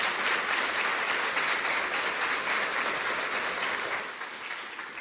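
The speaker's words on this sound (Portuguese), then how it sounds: "Aplauda essa mulher, aplauda a Virgem Maria." A church congregation applauds the Virgin Mary during a Lenten homily on the Immaculate Conception, with many hands clapping in a dense, continuous roar that eases slightly toward the end.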